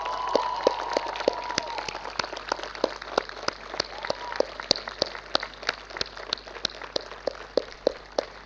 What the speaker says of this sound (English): please turn around and give your parents a big thank you round of applause.